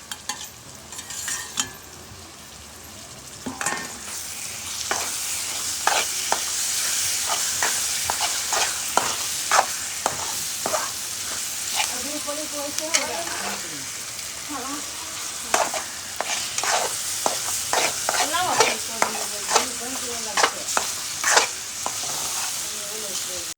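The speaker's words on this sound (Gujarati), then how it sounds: "બધી ગ્રેવી મિક્સ કરી અને પછી બટેટાના માંજામાં નાખી દેવાની" Thick tomato and turmeric gravy stirred into a mashed potato filling in a pan for bread pakoda, with a steady soft sizzle and repeated scraping, clattering spoon strokes close by throughout.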